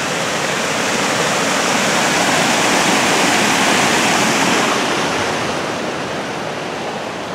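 Small waterfalls in a narrow high desert canyon creek make a steady, dense, full rush of falling water that stays loud and close throughout and eases slightly toward the end.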